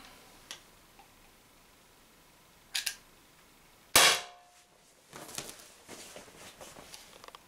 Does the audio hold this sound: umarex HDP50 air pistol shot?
yes